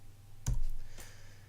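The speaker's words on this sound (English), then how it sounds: "press P on your keyboard" A single key press on a computer keyboard, the P key, gives one crisp near click followed by a fainter second tap about half a second later, in a quiet room with no talking.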